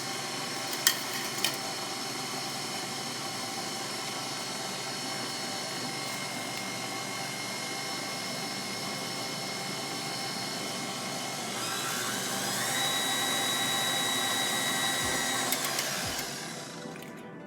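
An electric stand mixer whirs steadily through dry cake ingredients, a continuous motor hum with a high whine that rises slightly in pitch near the end before stopping.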